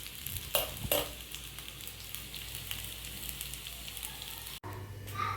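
Black kavuni rice kuzhi paniyaram cooking in a pan, giving a steady soft sizzle and frying crackle with a few brief clatters, close by and continuous.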